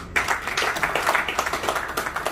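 Audience clapping at a book launch event in Korea, a steady patter of many hands close by, sustained through the whole moment without voices over it.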